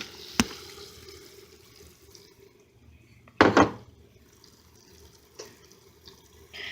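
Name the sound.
noodles going into a pot of boiling water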